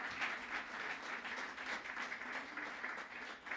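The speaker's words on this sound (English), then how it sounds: "So let's give them a big round of applause." An audience applauds at an outdoor concert with a steady wash of clapping from many hands, moderately distant and sustained for a few seconds without talk.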